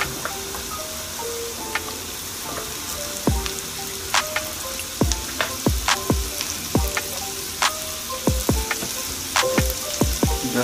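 Fresh chopped garlic sautéing with prawns in a pan, with a constant crackling sizzle under a series of sharp metallic utensil taps and clinks that come faster in the second half.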